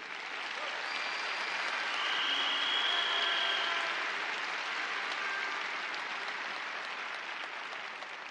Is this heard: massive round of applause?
yes